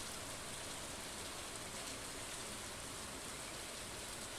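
Rain pours steadily in the Stardew Valley farming game on a summer day, a dense, even hiss of falling water that holds constant throughout with no voices over it.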